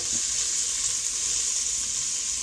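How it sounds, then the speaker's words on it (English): Beef searing in a hot pan for carne guisada, a loud steady close-up sizzle and crackle that holds evenly throughout with no talking. "So we want to sear it nice and brown"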